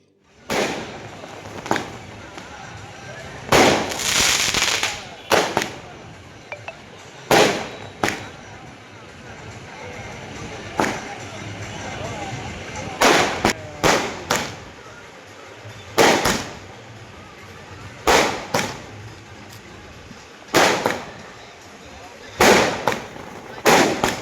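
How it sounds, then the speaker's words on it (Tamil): Fireworks and firecrackers burst outside a cinema during a fan celebration for a film trailer, with loud sharp cracks and crackling salvos repeating every second or two over a steady crowd murmur and voices. "இரவை பகலாக்கும் வகையில் வண்ண வண்ண வான வேடிக்கைகள் வெடித்து திரையரங்கம் முன்பு விழாக்கோலம் காணப்பட்டது"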